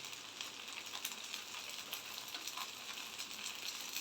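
Restaurant-style fish fry, with fish sizzling in hot oil in a pan as a steady, close crackle that keeps going with small spitting pops and no talking.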